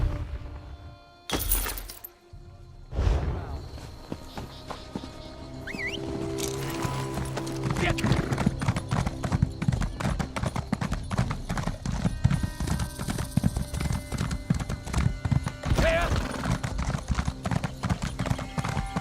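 Steady clip-clopping hooves with a rhythmic trot in The Elder Scrolls Online, joined by a sharp crash early on and a brief whinny, fairly loud and close throughout.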